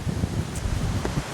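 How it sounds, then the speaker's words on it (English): Wind blowing across the ponds by the Waterworks Dam in Waterworks Park, St. Thomas, Ontario, a steady broadband rush with gusty buffeting on the microphone, fairly low in level and with no voices. "It's getting mighty windy here."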